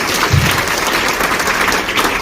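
A seated audience gives loud, continuous applause for a mentor, a dense wash of clapping that holds at an even level from start to finish.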